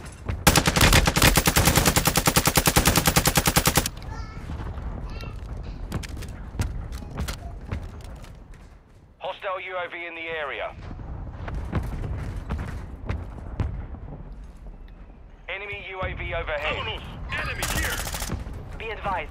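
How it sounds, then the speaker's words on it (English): Rapid automatic gunfire in a first-person shooter video game, a loud sustained burst opening the clip, then scattered shots, mechanical clatter and radio-style callouts over the game's mix. "Taking effective fire!"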